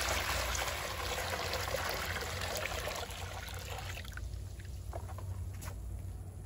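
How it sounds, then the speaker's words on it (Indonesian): Coconut husk soaking water, about eight liters, poured into a container: a steady broadband liquid rush and splash that is loud at first, then thins toward a lighter trickle near the end, with no voices. "Selanjutnya kita tuang air rendaman sabut kelapa sebanyak 8 liter kurang lebih ke"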